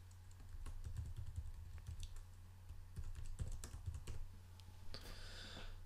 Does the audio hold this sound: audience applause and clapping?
no